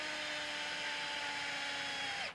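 A power drill whines steadily at high speed, boring into a pipe, with a sustained motor tone that cuts off abruptly at the end.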